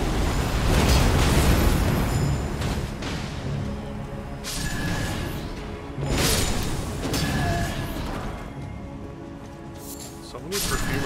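Fire spells burst in Elden Ring, several loud booming explosions that arrive one after another over a constant roar, with players talking over them.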